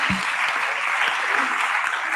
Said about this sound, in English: you can give them a round of applause for joining us this evening